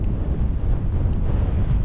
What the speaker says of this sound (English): I mean, it's not that windy.